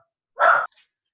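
A single sharp dog bark, loud and close, followed by a faint short echo or huff, then silence.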